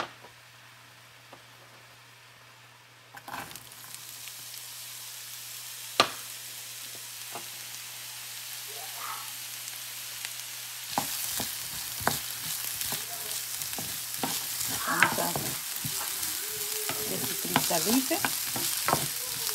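Onion cooks in a pan for Honduran tamales. A quiet opening with a few soft knocks gives way to rising sizzling, scraping and stirring noises that grow busier toward the end.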